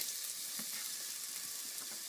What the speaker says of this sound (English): I'm going to saute for about 5 to 10 minutes just to soften up the onions and the leeks